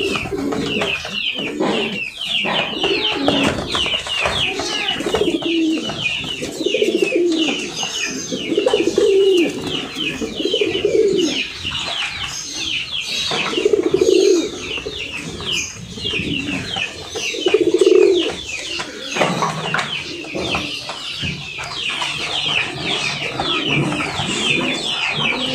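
Pigeons in a cage on a pigeon farm coo continuously, with overlapping low, rolling calls close by and faint rustling and flutter, and no talk.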